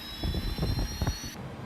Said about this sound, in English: Listen to the APU.